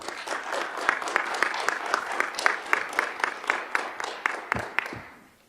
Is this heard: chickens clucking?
no